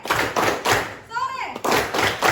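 A classroom group claps in quick rhythmic bursts, loud and close, with a short pause in the middle where a voice speaks before the clapping resumes.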